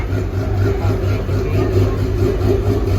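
A car with a JZ engine fitted with 264/272 cams idles lumpily, a loud uneven low rumble with rhythmic loping pulses close by and no voices.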